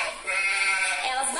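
Sheep bleating within a children's farm song, a wavering harmonic bleat running through the whole moment at steady loudness, blended with the song's sung melody.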